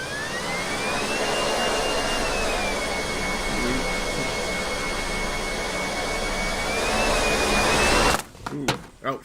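RC plane engine in the RealFlight Evolution simulator game spooling up to a high, steady whine that holds for several seconds, then breaks off into a short burst of impact noise and clatter.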